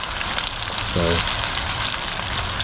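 Pieces of rainbow trout frying in hot oil give a steady, dense sizzle throughout, close and fairly loud, with a brief low tonal sound partway through.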